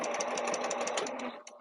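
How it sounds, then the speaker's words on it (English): A sewing machine stitches the lining of an organizer pouch at a slow pace, its needle tapping in a rapid, even rhythm up close before it slows and stops. "when sewing this part, definitely you'll want to make sure that your needle is in the down position"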